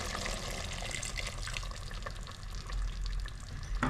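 Water pours steadily into a pot of vegetable sambar with a continuous splashing gush, close and even throughout, with no voices.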